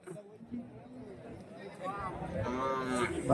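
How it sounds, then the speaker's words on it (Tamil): A cow moos in a long, rising call that grows louder toward the end, close by, with faint background murmur. "ஒரு மாடு வந்து இருக்கு பாருங்க"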